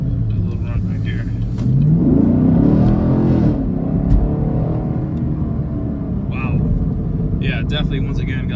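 A 10-speed Camaro SS accelerates hard from inside the cabin, its engine rising in pitch through the gears with a loud, steady rumble, while a voice talks over it.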